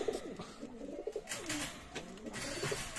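Pakistani high-flying pigeons coo in repeated soft, throaty phrases at a pigeon loft, close and fairly quiet, over a low background murmur, with no one speaking.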